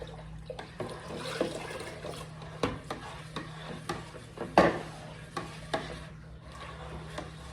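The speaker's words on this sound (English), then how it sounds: "we're gonna stir that honey just so that way it all dilutes into it" A spoon clinks and scrapes against a container as honey is stirred into water for mead, in irregular knocks with soft sloshing between them, close by.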